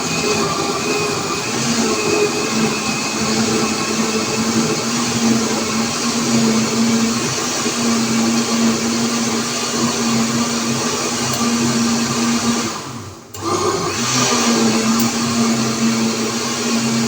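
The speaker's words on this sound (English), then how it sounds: "I'm gonna blend up the coconut." A blender whirs steadily as it blends coconut for Jamaican-style red pea soup, a loud continuous motor drone that briefly dips near the end, with no talking.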